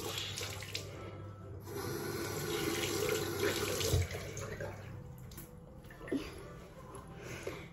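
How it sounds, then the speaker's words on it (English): A tap runs steadily to wet a makeup sponge, a soft continuous rush of water with small splashes and handling sounds, fairly quiet and close. "wash your sponge or make it wet"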